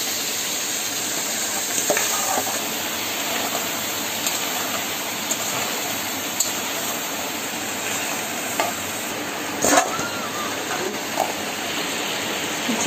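Crabs coated only in salt and turmeric fry in hot oil, giving a steady, dense sizzle with occasional louder pops and crackles throughout, close by and with no talking.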